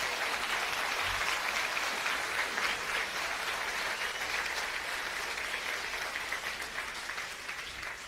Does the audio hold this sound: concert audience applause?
yes